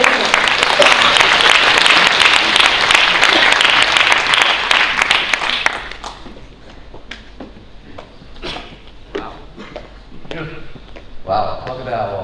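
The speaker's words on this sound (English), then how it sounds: "can we give a big round of applause to welcome Karen and Jason" A conference audience at the ORY APAC-US Conference 2024 greets two speakers with loud, dense applause for about six seconds, then the clapping fades to scattered claps and room noise.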